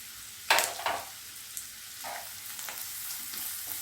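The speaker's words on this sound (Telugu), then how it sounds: "అల్లం వెల్లుల్లి పేస్ట్ వేసుకోవాలి." Ginger garlic paste dropped into hot oil with onion pieces for an egg fry, a sharp burst of sizzling at the start that settles into a softer, steady frying hiss with a few stirring scrapes, no talking.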